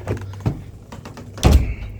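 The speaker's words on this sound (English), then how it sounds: "Shut the door." A door in a workshop where a chainsaw is being used swings shut with a single loud, close thud, after a couple of lighter knocks and rattles.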